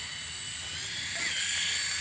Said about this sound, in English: It can fly like a helicopter.